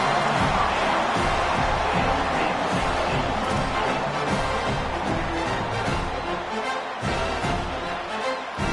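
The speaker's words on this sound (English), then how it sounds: "This crowd absolutely loving it as he rolled into the end zone." A stadium crowd roars continuously after a touchdown in a college football video game, a loud, dense wall of cheering that holds steady throughout.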